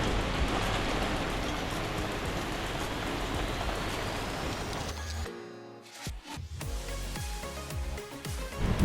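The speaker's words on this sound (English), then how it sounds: "got back just before the heavy rains hit." Dense, heavy rain pours loudly and steadily at Voyageurs National Park, then cuts off abruptly and gives way to quieter, scattered sounds.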